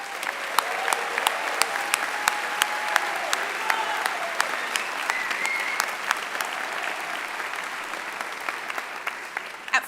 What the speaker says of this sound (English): stand to receive one more round of applause from your FAU